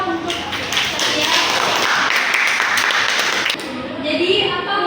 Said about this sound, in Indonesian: Tepuk tangan dulu dong untuk Syatia